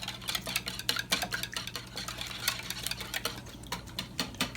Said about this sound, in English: then we're just gonna whisk.